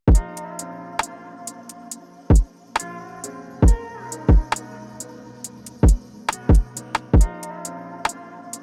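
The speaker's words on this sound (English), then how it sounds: "Now I just added in another pair of hi-hats behind the main one" Hip-hop beat with punchy kicks, snares and crisp hi-hats, including an extra layered pair of hi-hats, looping over a sustained melodic backing at a steady bouncy tempo, loud and with no talking.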